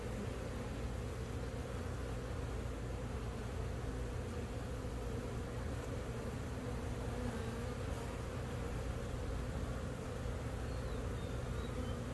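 Honeybees swarm around an open hive during a spring beehive inspection, and their buzzing makes a dense, steady drone through the whole stretch. An occasional single bee whines past close by.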